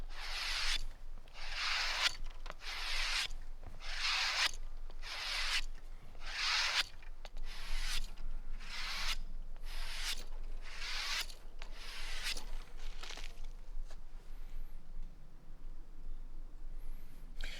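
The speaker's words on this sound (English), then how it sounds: "I'm going to drag the knife so that the edge coming the other way. It's not trying to cut the belt" A knife blade drawn repeatedly along a leather belt strop, edge trailing, in steady rhythmic strokes, each a short bright rasping swipe, close and clear with no talking.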